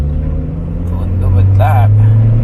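Push-button start of a modern car with no clutch pedal, on a trip through Armenia: the engine catches and settles into a steady low idle rumble that grows slightly louder, heard from inside the cabin.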